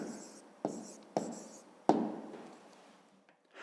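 Pen strokes scratch across paper in a few short bursts with sharp taps between them as a math answer is written out, quiet and close with no talking.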